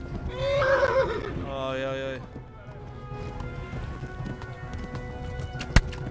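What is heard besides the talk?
horse neighing and galloping in video game Kingdom Come: Deliverance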